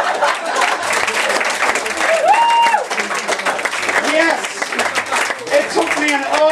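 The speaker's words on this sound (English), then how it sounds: "Audience of students to finally get a round of applause for a downloading joke" A student audience at a live stand-up comedy show at Anseo bursts into lively clapping and cheering after a joke. The applause is loud and continuous, with voices and whoops mixed into it.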